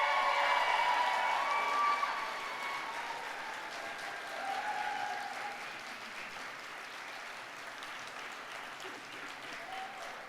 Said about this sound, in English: I invite you, the graduates, to applaud your family, friends, and faculty and staff who helped you along the way